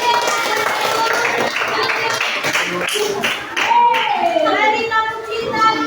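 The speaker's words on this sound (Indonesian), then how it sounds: "Beri tepuk tangan untuk Bapak" Junior high students in a classroom clap for their teacher, a lively patter of hands mixed with children's chatter and voices, with a sing-song vocal passage toward the end.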